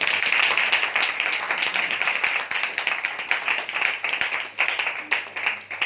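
A church assembly audience claps together in a dense, loud burst of applause that holds steady for several seconds before thinning slightly at the end.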